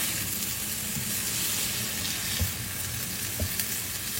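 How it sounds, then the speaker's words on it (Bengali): Potato bhaji frying in a pan, a steady broadband sizzle with a couple of soft knocks from a spatula, no voices. "আলু ভাজি প্রায় হয়ে আসছে, নামাই ফেলে এটার ভিতরে আমি ডিমটাও ভাজি করে ফেলবো।"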